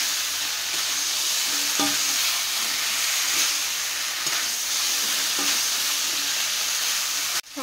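Boiled potatoes and chickpeas frying with turmeric in a pan, a steady loud sizzle with occasional stirring scrapes and clicks, close and continuous, ending with a sharp clatter.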